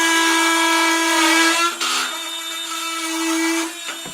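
Flex power tool fitted with a Diablo carbide blade cuts through a hardwood oak dowel, a loud high-pitched whine that holds steady for a few seconds, dips briefly as the blade bites, then runs on before trailing off. No one speaks.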